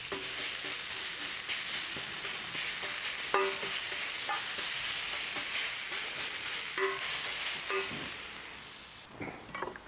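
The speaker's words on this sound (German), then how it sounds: "dann werden wir erstmal Zwiebeln karamellisieren" Onions sizzle steadily in a hot pan while being stirred to caramelize, a continuous close frying hiss with scattered scraping clicks and no speech.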